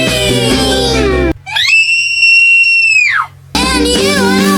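Children shriek at a Halloween-themed kids' show at a pumpkin patch: one loud, sustained high-pitched scream rises, holds and falls, set between stretches of dense, busy sound.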